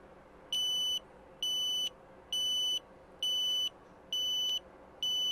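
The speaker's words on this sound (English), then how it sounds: "They will get a train alert message here on the LCD screen, as well as an audible, vibrating, and LED alerts here at the bottom." A worker's wearable roadway-protection device sounds a train alert: six evenly spaced, bright electronic beeps, each about half a second long, loud and clear over a quiet background.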